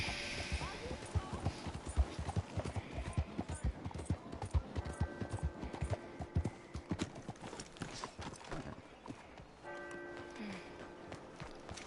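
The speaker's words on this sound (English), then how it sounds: "Y después me compré un nuevo caballo." Horse hooves clip-clop in the Red Dead video game, a steady rhythmic stream of hoof strikes with rustle and game ambience, and a voice speaks faintly in the background.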